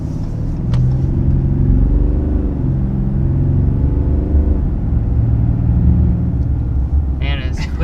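A 2022 RAM 2500 HD turbo diesel pickup accelerates with a steady low engine rumble that rises in pitch, heard from inside the cab while a person talks over it.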